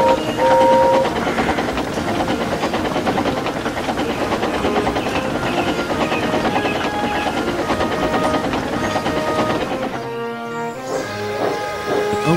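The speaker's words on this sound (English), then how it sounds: "The Express is a long, heavy train." A long, heavy express passenger train runs steadily in a continuous rolling rumble with rhythmic wheel clatter, then a brief whistle-like tone near the end.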